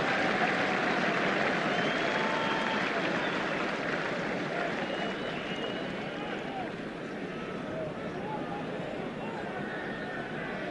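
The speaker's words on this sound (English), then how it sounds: "Canterbury favourite getting a sympathetic round of applause as he leaves the field." Rugby crowd at a 1978 New Zealand versus Australia Bledisloe Cup test giving sympathetic applause as an injured Canterbury favourite leaves the field, a steady broad wash of clapping and crowd noise throughout with commentary voices underneath.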